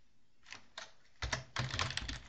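Someone types on a computer keyboard while writing code, starting with a few isolated keystrokes and then breaking into quick bursts of clattering keys, close and fairly quiet, with no talking.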